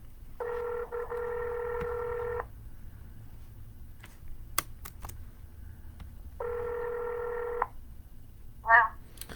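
Touch-tone keypad tones sound as a phone number is dialed for a real estate cold call: two sustained tone bursts a few seconds apart, a few sharp clicks between them, and a brief electronic chirp at the end, fairly quiet and without talk.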